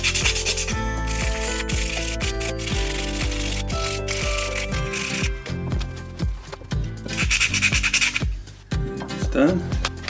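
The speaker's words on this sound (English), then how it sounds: "Just score up that surface nice." Close, rhythmic scraping strokes of abrasive scuffing a dirt bike brake part surface, repeated roughly every half second with short pauses and scattered clicks, no one speaking.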